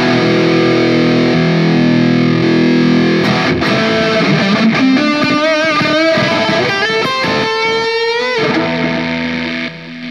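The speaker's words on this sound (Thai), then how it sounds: "ตอนนี้เปิดโอเวอร์ไดรฟ์เพื่อเพิ่มเกณฑ์ให้กับตู้ด้วย" Electric guitar through an NUX MG-30 multi-effects unit with an overdrive boost on the amp: loud, distorted sustained chords, then a run of bending, wavering lead notes before the chord rings out and fades.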